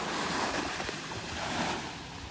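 Waves wash onto a beach in North Naples, Florida, a continuous broad hiss of surf mixed with wind buffeting the microphone, fairly close and steady, with no voices.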